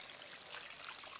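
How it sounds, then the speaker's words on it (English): Water poured into a pressure cooker pot for cow heel soup, a faint steady trickling splash continuing briefly without talk. "And I'm adding water close to the max."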